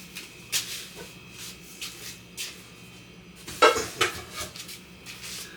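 A big metal cooking pan being handled in a home kitchen, with a few scattered clanks and scrapes followed by a louder ringing clatter of metal near the end, close and fairly quiet, with no talking.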